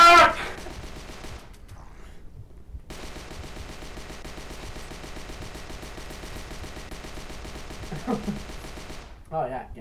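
Steady automatic gunfire in the VR zombie shooter HordeZ, a long continuous rattle of shots at moderate level with a brief pause early on and a player's voice breaking in.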